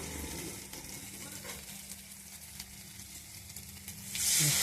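Chili paste goes into hot oil already holding fried chilies, nigella seeds and tomato, with a soft continuous sizzle that swells into a loud, bright hiss at the end.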